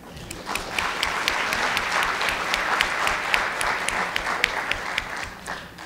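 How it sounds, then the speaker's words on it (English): A conference keynote audience breaks into dense, sustained applause, many hands clapping together in a full, steady roar with a few sharper claps popping out, and no talking over it. "A huge round of applause."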